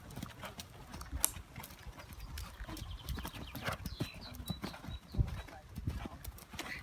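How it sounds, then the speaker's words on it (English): Hoofbeats of a warmblood mare cantering in a steady three-beat rhythm during a saddle fitting, moderately close, with people talking over the footfalls. "So if we could have the canter when you're ready, Mola."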